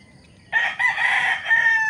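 A fighting rooster lets out one loud, close crow that lasts over a second, rising suddenly out of near quiet and ending in a drawn-out final note.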